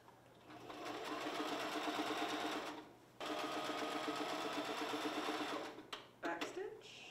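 Sewing machine stitching fabric for a ribbon skirt: a close rapid mechanical chatter in two long runs separated by a brief pause, ending in a few short bursts.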